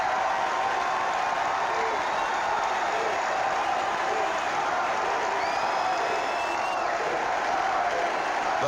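A baseball stadium crowd gives Tony Gwynn a standing ovation after his fifth hit of the game, a dense continuous roar of applause and cheering at steady loudness with a few whistles on top.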